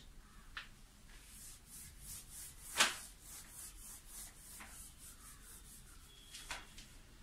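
A board eraser rubs writing off a board during a plane-stress engineering lecture, a series of quiet, repeated scrubbing strokes with one sharper swipe partway through, close and alone without talk.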